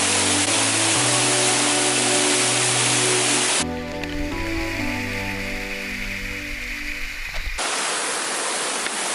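Rushing water from a series of waterfalls hisses as a broad, steady roar. A steady musical tone runs underneath, and the water cuts out briefly in the middle before surging back at the end.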